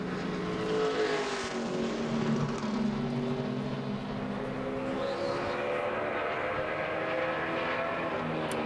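A NASCAR Nationwide Series stock car roars around the track on a qualifying lap in 2012, its engine note sustained and loud throughout, rising and shifting pitch as it passes under steady broadband track noise.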